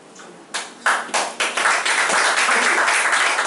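Audience at a history lecture starts clapping, a few separate claps at first, then quickly swelling into steady, fairly loud applause from many hands.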